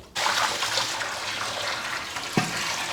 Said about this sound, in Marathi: त्याला परत एकदा चांगलं खळखळून घेऊ म्हणजे अजून काही मातीचे कण असतील तर ते निघून जातील